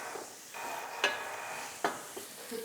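Onions frying on high heat in a pan while being stirred and moved around, a soft steady sizzle broken by a couple of sharp spatula scrapes, fairly quiet and close.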